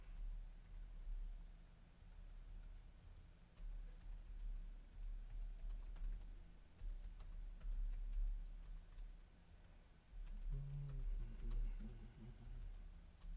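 Typing on a computer keyboard, with sparse, faint key clicks in an irregular rhythm over a low steady hum, and a voice briefly audible near the end.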